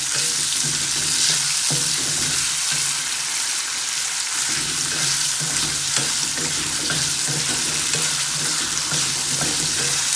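Avarekka (broad beans) masala sautéing in a pan gives a steady, dense sizzle, with the occasional scrape of stirring, close and continuous throughout.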